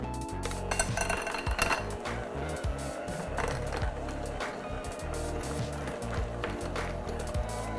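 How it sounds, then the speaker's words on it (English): A handheld electric mixer beats cream cheese with sugar and a little flour for a red velvet bundt cake, a steady close motor whir with clattering beaters knocking against the bowl throughout. "And then I'll take my hand mixer again and mix that up."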